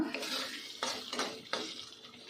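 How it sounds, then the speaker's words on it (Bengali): A spoon scraping and stirring masala spice paste frying in a pan for a prawn dish, with several distinct clanks against the metal over a steady soft sizzle. "এবার মশলাটা ভালো করে কষিয়ে নেব"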